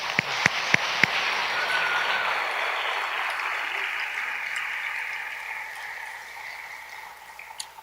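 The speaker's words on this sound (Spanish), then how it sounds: "Lo despedimos con un aplauso." Applause from a church congregation at a thanksgiving service, starting with a few sharp claps and swelling into a broad, steady ovation that gradually fades over several seconds.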